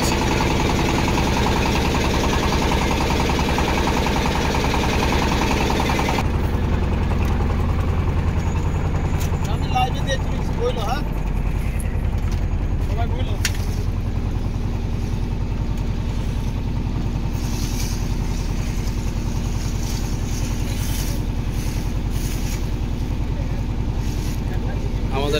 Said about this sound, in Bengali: আমাদের ট্রলার এখন মিঠামইনের উদ্দেশ্যে ছেড়ে যাচ্ছে।